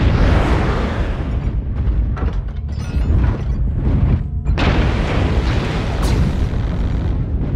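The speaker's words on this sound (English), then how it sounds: "Artillery strike online." Artillery strike explosions in the video game MechWarrior Online land as loud, dense booming rumbles that roll on continuously, with a brief lull midway before another heavy wave of blasts.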